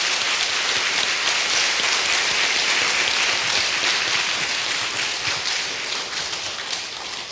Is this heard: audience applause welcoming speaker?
yes